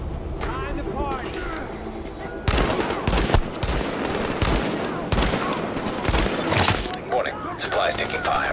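Rapid gunfire in The Division, a shooter video game, as hostiles fire on supplies: dense bursts of automatic fire crackle from about two and a half seconds on, over game music, with voices shouting through much of it.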